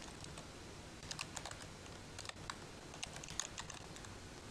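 Typing an HTML heading on a computer keyboard, a steady run of quick, close clicking keystrokes with small bursts and pauses, with no voices.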